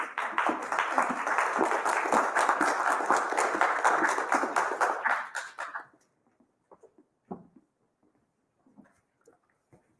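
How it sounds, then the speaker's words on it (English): Audience applause after a flash fiction reading at a live event, a dense, steady clatter of many hands that stops abruptly partway through, followed by a few scattered faint claps and room noises. "They crowded around him"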